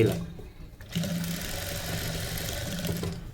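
A sewing machine runs a steady, continuous whirring stitch along a V-neck blouse while a thread piping is sewn in. The motor hum is close and unbroken, with no voices.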